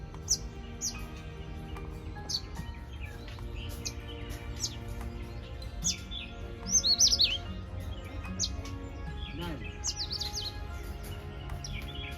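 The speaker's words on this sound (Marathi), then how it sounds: "इकडे एक पक्षी बसले आहे बघा एकमेकांना कॉल करतात बघा" Several birds call back and forth with sharp, high chirps and tweets at a hotel in Assonora, Goa, scattered irregularly over a low, steady background hum.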